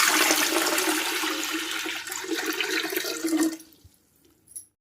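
Water poured into a pressure cooker for cooking cow colostrum milk, a steady gushing splash that runs for several seconds, then stops, leaving a faint trailing drip.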